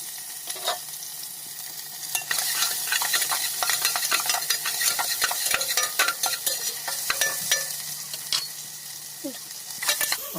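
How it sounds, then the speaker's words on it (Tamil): Sliced onions sautéing in hot oil with fennel seeds, cinnamon and star anise while making mutton soup, giving a steady close crackling sizzle broken by scraping stirs and light clinks of a spoon against the pan. "ஆனியன் நல்லா வதங்கிட்டு இருக்கு"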